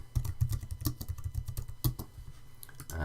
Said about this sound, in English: you can type in the title of your note